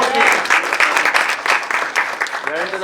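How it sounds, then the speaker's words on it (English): Applause from a youth leaders' mixer event rewards a participant in a game, a steady wash of many hands clapping with voices mixed in and a brief vocal exclamation near the end. "big round of applause for Aryan"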